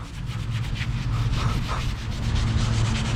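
Surface rust being rubbed off a panel of a stock 1962 Ford Falcon Tudor, a steady, close, abrasive scrubbing that keeps on without a break.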